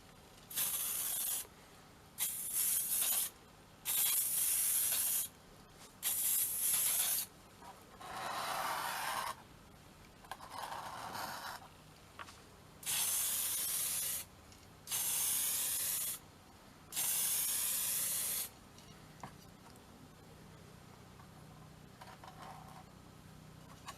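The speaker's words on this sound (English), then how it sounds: "So I'm just going to spray really fine strokes across and then flip them around, do the different angles" Fine strokes of spray paint on a Talisman miniature figure: about eight short, loud hissing bursts, each a second or so long, separated by brief pauses, with soft handling noises in between.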